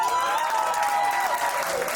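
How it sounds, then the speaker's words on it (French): Guests at a wedding applaud together in a dense, steady burst of clapping that fills the whole moment, with a held musical tone running underneath. "Acclamons."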